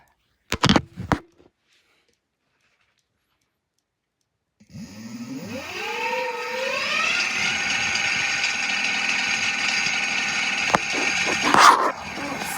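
A geared motor hooked to a 50 A controller spins up from silence after a brief knock, its whine climbing in pitch and settling into a steady, loud electric hum with gear noise.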